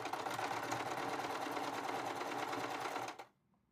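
A Usha Janome sewing machine runs a picot stitch in one steady, close, continuous burst that stops abruptly before the end.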